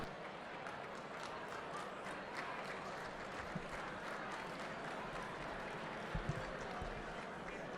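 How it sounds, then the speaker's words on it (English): A sparse smattering of audience applause greets the evening's MC on stage, quiet and distant, with scattered claps over a low room murmur and a couple of soft thumps. "Thank you for that smattering of applause."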